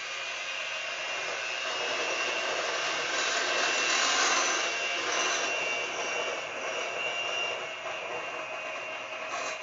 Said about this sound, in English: we're going to take our electric mixer and we're going to combine the dry ingredients